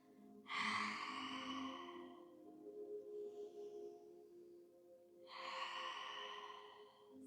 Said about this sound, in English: big exhale. Lion's breath out.